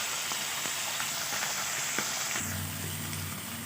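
Pieces of fish frying together in hot oil in a wok, a dense close sizzle with scattered pops; partway through a lower steady hum joins the crackling.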